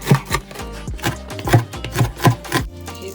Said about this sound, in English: Let's start by chopping some veggies. So you will need at least 2 onions.